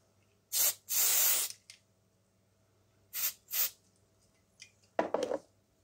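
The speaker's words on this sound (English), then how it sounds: "I think I need to spray a bit more down the bottom, also down here." Short hissing bursts from a spray can, close and loud, two long sprays followed by shorter spurts with quiet gaps between them and no talking.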